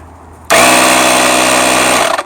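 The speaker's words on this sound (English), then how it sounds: "Here's your air compressor." Tire inflator air compressor built into a portable battery jump starter switching on abruptly and running with a loud, steady mechanical buzz and hum close by, then sputtering as it winds down at the end.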